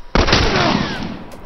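A loud, close gunshot in The Last of Us booms out once with a long ringing decay. Nobody speaks.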